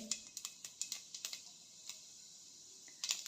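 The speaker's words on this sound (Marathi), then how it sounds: "मोहरी तडतडा लागली आहे" Mustard seeds splutter in hot oil in a home kitchen pan, a quick scatter of sharp crackling pops, irregular and close, quieter in the middle before a final burst.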